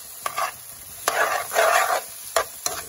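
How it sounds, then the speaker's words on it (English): A metal spoon scraping mustard off against a bowl or jar edge while making an olive dish, heard as several sharp clinks and a longer rasping scrape, close and fairly loud with no talk. "I'm trying to get the mustard off the spoon."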